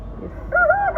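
A chicken at a busy African village town market gives a warbling, rising and falling call that starts halfway through over a low, quiet background murmur, fairly close and clear.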